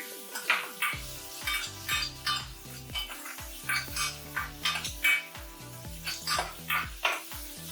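Vegetables browning in a pan for a shrimp pasta tomato sauce are stirred, with repeated metallic scrapes and clanks of utensil on pan in an uneven rhythm, loud and close.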